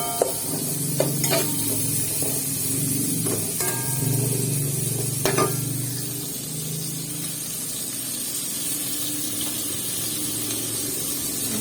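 Garlic and onion sautéing in a pan for a creamy pesto pasta sauce, a steady hissing sizzle with a few stirring clinks in the first seconds, then an unbroken fry.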